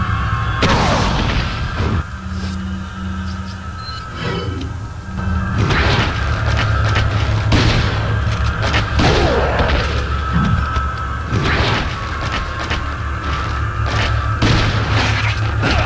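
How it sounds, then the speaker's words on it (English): A flash grenade goes off in Resident Evil 4 amid loud repeated game booms and thuds, with dense continuous action noise throughout and no speech. "I'm actually going to use the flash grenade here"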